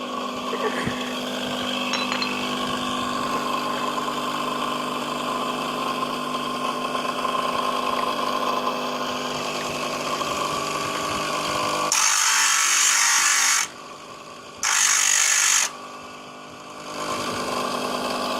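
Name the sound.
grinder grinding motorcycle brake shoe, Honda CD 70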